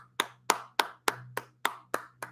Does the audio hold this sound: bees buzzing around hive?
no